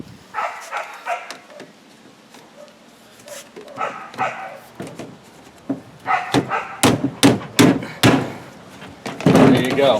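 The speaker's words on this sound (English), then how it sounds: "Neighbors let her dogs out." Neighbor's dogs barking outdoors while stone crab traps are assembled, a string of loud sharp barks and thumps clustered in the second half, with quieter barks and bumps earlier.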